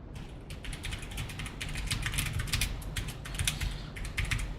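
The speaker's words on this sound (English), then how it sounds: "I was just typing a quick little note to Devon Alexander over here" Quick typing on a computer keyboard, a close, fairly quiet run of uneven clicks and clatters that keeps going throughout with short pauses between bursts.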